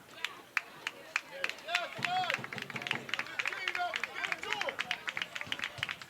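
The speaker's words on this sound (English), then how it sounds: "Just clapping on the Talent Driven fan sideline." Fans on the sideline of a 12U youth football game clap in a fast, uneven patter that runs through the whole stretch, with chatter and a commentator's voice over it.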